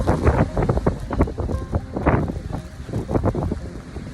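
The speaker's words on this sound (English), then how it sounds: "That wind is absolutely whipping around these corners." Strong gale-force wind on Mount Buffalo in Victoria during a snowstorm whips around the corners of a summit platform, buffeting the microphone in loud, uneven gusts that roar continuously throughout.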